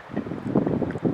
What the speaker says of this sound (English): The wind has really been blowing.